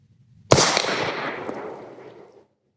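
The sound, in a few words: handgun shots fired at a range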